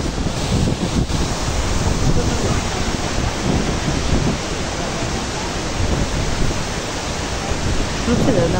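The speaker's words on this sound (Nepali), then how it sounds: "मुख्य झरना पुग्यौँ" A main waterfall on a Mustang trek roars continuously as a broad, loud wash of rushing water, with buffeting wind noise on the microphone and no break across the whole stretch.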